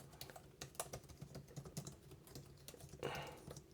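Typing on an Asus ROG G16 2025 gaming laptop keyboard, a quiet, close run of quick, slightly clicky keystrokes at an uneven pace, with no talking.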